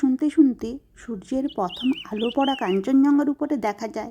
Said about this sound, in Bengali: সঙ্গে পাখির ডাকটা একটু শুনুন